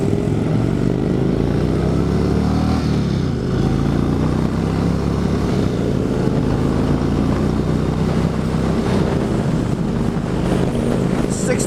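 An Indian Chieftain motorcycle rumbles steadily throughout a demo ride, its engine drone loud and continuous, with shifting tone as it moves along the road.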